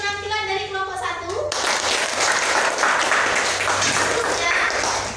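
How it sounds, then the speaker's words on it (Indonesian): A classroom group claps for another group's performance: dense, steady applause from many hands fills the room after a brief stretch of talk, close and loud throughout. "Tepuk tangan untuk penampilan dari kelompok 1."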